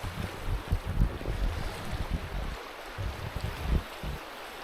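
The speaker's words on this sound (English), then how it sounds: "The river's flowing." A river flows steadily outdoors at a campsite on a cold morning, giving a continuous low rushing wash with gusty wind buffeting the microphone throughout.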